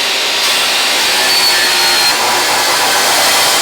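Steel flat bar, one and three inches wide, being cut with a power tool, a loud steady high-pitched grinding whine with faint tonal squeals, continuous for several seconds with no talking.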